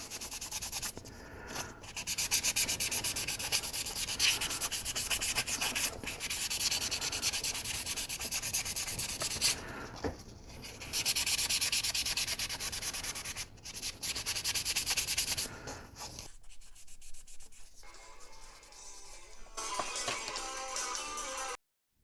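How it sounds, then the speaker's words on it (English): 400 grit sandpaper sanding the leg of a 1/8 scale Volks Super Sonico resin figure, steady close rubbing strokes in bursts with brief pauses, softer and patchier toward the end, no voices. "I'm going to have to get some 400 grit sandpaper into the crook of the leg"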